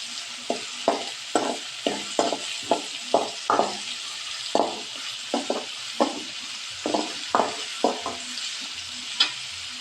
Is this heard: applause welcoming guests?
no